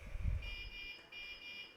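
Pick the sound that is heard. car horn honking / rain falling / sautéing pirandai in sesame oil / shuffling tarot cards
car horn honking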